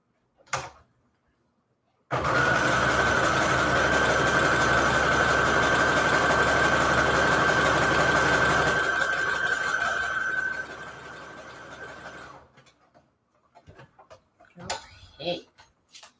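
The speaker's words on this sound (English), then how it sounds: "I hear almost like a dry sound inside my sewing machine." A sewing machine running steadily and loudly for about ten seconds with a sustained whine, then winding down, a faint dry rubbing sound inside the mechanism, with brief clicks before and after.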